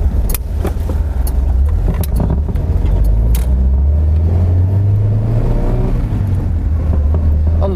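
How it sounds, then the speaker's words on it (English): A Vauxhall FE Victor 2300S with its four-cylinder engine drives along, heard from inside as a loud, steady engine drone that climbs in pitch as it pulls, with a few clicks and rattles. "it's got this great lusty 4-cylinder engine, which pulls really well"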